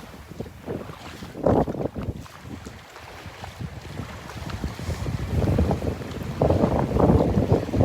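Strong wind buffets the microphone on the Delnor-Wiggins beach, roaring steadily and swelling louder in gusts toward the end, with surf faintly underneath and no talking.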